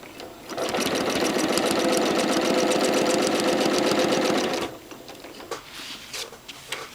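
A domestic sewing machine runs steadily in a continuous close, loud whir with rapid needle ticking for about four seconds while free motion ruler work quilting is done; it then stops, leaving faint handling clicks and rustles.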